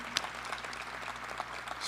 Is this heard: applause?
yes